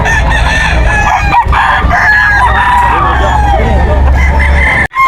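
A nine-month-old young rooster crows loudly and close at a bustling pet market in Bocaue, with long drawn-out calls over background chatter and clucking.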